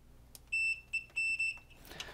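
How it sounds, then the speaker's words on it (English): A multimeter checks continuity on a solder joint while a 1992 Sony PVM Trinitron CRT monitor is being repaired, giving a few short, clean electronic beeps in quick succession, near and fairly faint, with no talk. "let's quickly test right here again on our two points, just to make sure we have continuity between them"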